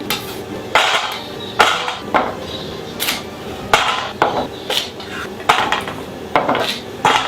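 Rainbow carrots chopped with a knife on a board, sharp irregular thunks coming close and clear, alone without talk.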